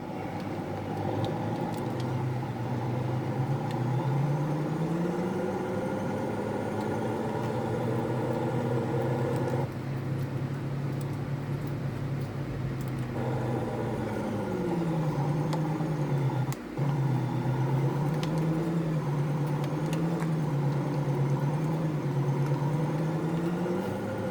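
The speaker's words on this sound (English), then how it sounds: "Got a lot of weight back there on this truck." A heavily loaded farm truck labors along a field ditch, its engine droning steadily up close with slow rises and falls in pitch as it works through the rough ground, and no voices are heard.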